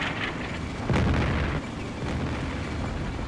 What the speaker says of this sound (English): Yeah, so artillery is still falling